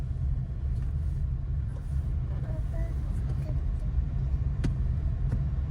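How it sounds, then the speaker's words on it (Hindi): A steady low engine rumble from inside a car, held at a fairly constant level, with a few faint clicks and knocks near the end. "अभी बढ़ाइए स्पीड, और बढ़ाओ, क्लच दबा के सेकंड गियर करो, छोड़ो क्लच"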